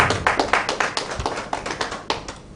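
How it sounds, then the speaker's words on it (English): An audience claps for Ellen Johnson Sirleaf, the 24th president of Liberia, at a live-streamed event: a brisk, uneven patter of hand claps with sharp individual slaps standing out, steady throughout with no talking. "Please clap your hands for her."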